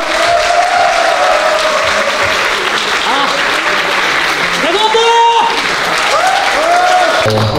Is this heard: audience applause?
yes